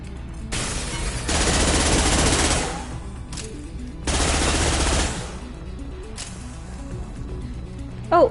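Gunfire in the Mass Effect 2 video game, with two long bursts of rapid automatic fire over a steady low hum, separated by quieter gaps with a few short single shots.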